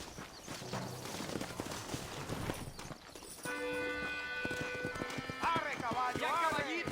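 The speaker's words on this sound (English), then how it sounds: "¡Arre, caballo! ¡Ya, caballito!" Horse hooves clip-clop in a steady trot while riding in Mexico in the Red Dead Redemption video game, with a neigh and music-like tones over them and people speaking throughout.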